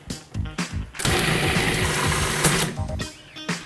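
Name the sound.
food processor running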